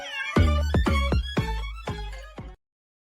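A kitten meows six times in quick succession, each cry loud, close and clear with a rising-falling shape, alone without any talk, then stops abruptly.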